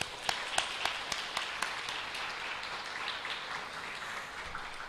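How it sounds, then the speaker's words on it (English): An audience at the AI for Climate Action Forum gives a round of applause, with a few sharp claps at the start that settle into a steady wash of clapping from a crowd. "let's start off the way I know my Tanzanian brothers usually start off, with a powerful round of applause"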